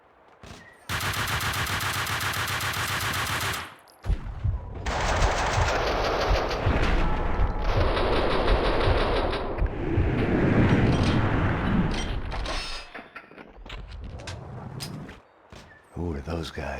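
MP5 submachine gun fire in the video game Max Payne 2, long rattling automatic bursts with short pauses between them, loud and close, with people talking over parts of it.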